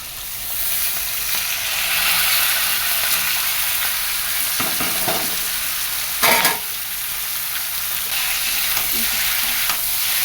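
Prawns sizzle and crackle steadily in hot oil, a constant bright hiss with a few louder spits and stirring scrapes partway through.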